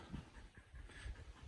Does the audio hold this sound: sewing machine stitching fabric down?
no